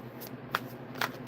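Tarot cards are shuffled by hand in a quiet room, giving two short, soft riffling bursts about half a second apart over a faint background hum.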